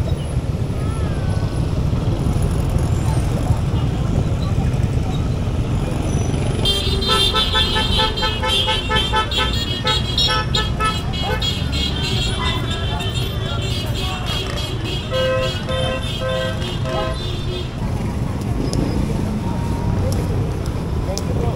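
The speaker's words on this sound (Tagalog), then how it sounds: "Grabe, traffic ngayon." Busy street traffic rumbles steadily nearby while car engines drone, and from the middle onward repeated horn toots and honks sound over the noise; people talk at points.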